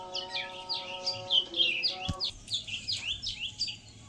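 Madrazi pigeons calling in a rapid series of short, high chirping notes, close and fairly faint, with a sharp knock partway through.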